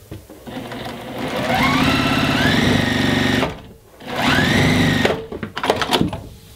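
A sewing machine stitching quilt block pieces runs in two steady bursts of rapid mechanical whirring that rise in speed, broken by a short pause, then ends with a few clicks and knocks; no talking.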